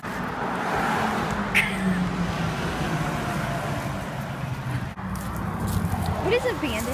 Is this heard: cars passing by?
yes